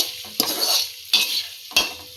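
Three scraping stirs break into a pan of spices tempering in sizzling oil, each followed by a bright crackling hiss close by.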